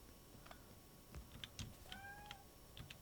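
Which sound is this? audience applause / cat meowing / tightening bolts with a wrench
cat meowing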